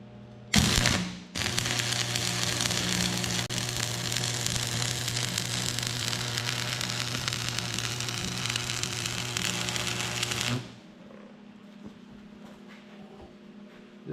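An AC stick welder drags a flux-coated rod, giving a loud, steady crackling hiss that runs for about ten seconds and then cuts off.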